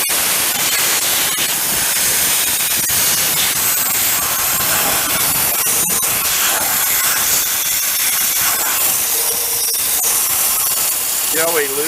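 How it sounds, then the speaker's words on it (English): Siphon sprayer hissing out a steady spray of wash onto a garden tractor, a continuous broadband hiss that runs loud and close throughout, with faint speech mixed in underneath. "So we'll show you what it looks like spraying."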